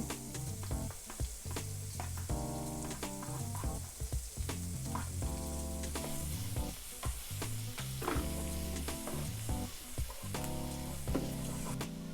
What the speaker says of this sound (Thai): พร้อมกับใส่กระเทียมสับลงไปเลยนะคะ ผัดให้กระเทียมเหลืองนิดนึง